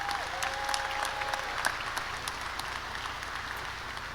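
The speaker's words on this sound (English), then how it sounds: "Let's give those students a round of applause again." A high school graduation audience applauds steadily, a dense wash of clapping from a large crowd that holds at an even level and continues through the whole stretch, with a faint whistle near the start.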